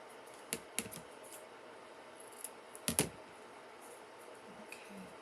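Scissors trim a Dollar Tree Christmas craft in quiet surroundings, making a few faint, crisp snips in small clusters with pauses between them.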